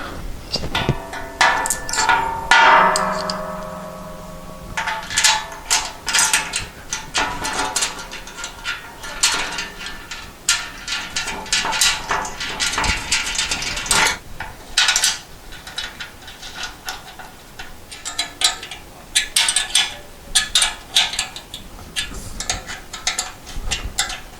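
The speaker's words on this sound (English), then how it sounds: "Use the cheap little wrench it came with." A small wrench ratchets and clanks on pellet grill hardware bolts during Z-Grills assembly, a busy run of metallic clicks, taps and rattles, close and continuous.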